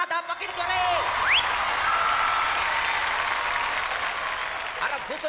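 A studio audience at a Marathi comedy show claps loudly and steadily for several seconds. Rising whistle-like cries and voices cut through the dense applause near the start.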